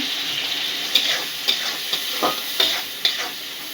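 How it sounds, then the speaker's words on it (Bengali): Shrimp with turmeric fry in a pan beside jute greens, a steady close sizzle broken by regular spatula scrapes roughly every half second, with no voices. "চিংড়ি মাছটা ফ্রাই হয়ে গেছে প্রায়।"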